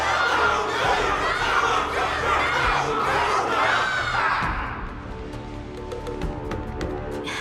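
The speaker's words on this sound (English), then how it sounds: "Can't you hear? Everyone's cheering for you, Luka!" A large game crowd roars and cheers loudly and continuously with shouts and whoops, then thins out into scattered voices and lighter clapping-like taps near the end.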